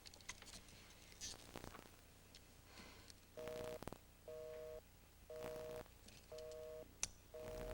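A telephone line gives a busy signal after dialing: a series of regular on-off beeps, about five evenly spaced pulses, heard faintly alongside key-like clicks and light room noise.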